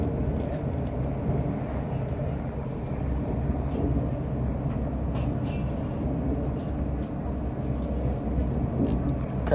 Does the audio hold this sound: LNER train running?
yes